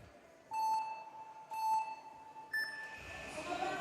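Three evenly spaced electronic start beeps at a speed climbing final, the last one higher, sound about a second apart over a quiet background, followed by a rising rush of noise.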